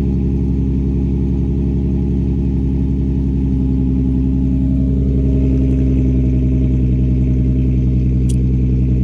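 An Infiniti G35 coupe engine running, a loud steady low hum with a constant pitch, with a slight rise in level partway through and a brief faint click near the end.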